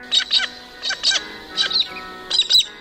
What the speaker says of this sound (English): The galah, Eolophus rosicapilla, today's Talking Birds featured feathered friend.